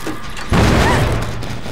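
An explosion in the video game Dead by Daylight bursts in suddenly as a loud, dense rumbling blast with a mechanical clatter, then sustains as a broad roar to the end.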